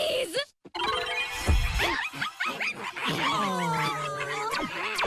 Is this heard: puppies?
yes